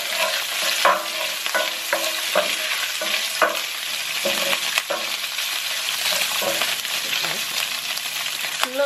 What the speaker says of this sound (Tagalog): Tapos gisa natin sa oil.